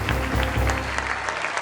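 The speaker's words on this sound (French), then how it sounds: "applaudissez pour ce garçon-là" A short burst of audience applause at a comedy show: close, dense clapping that holds steady for under two seconds before tailing off, with no voices over it.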